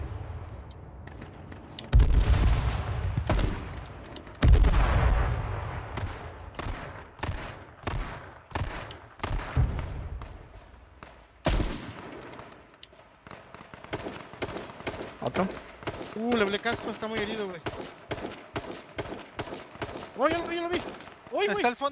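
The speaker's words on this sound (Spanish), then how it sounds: "No sé dónde me están disparando, güey." Bursts of gunfire crack and rattle in the battle royale game H1Z1, rapid clusters of shots that are loud early on and then become quicker, lighter pops, while players talk over the shooting.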